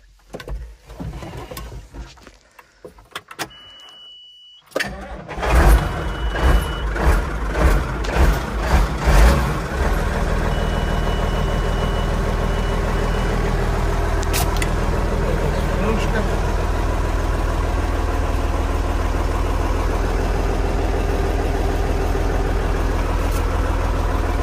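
A Case Magnum 7210 Pro tractor engine cranks with a few uneven bursts, catches, then settles into a steady, loud low idle that runs on continuously.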